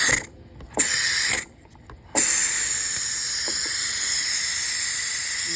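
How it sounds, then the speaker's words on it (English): Steam hisses loudly from a pressure cooker during an immediate pressure release for beef stew, first in two short bursts with brief gaps, then as a continuous steady rush with faint mechanical clicks. "that over there and let the pressure come out. Let the steam pressure release."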